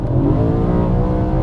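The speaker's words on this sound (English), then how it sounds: "get this air intake because the noise" Naturally aspirated BMW E92 M3 fitted with an aftermarket air intake, its engine revving loudly and close by with a smooth rising and falling throttle tone.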